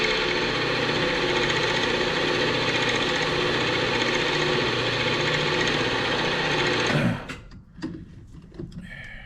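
A machine tool runs steadily while lightly spot drilling a boss on a rocker arm bracket, a continuous mechanical hum that cuts off abruptly near the end, followed by faint workshop clatter.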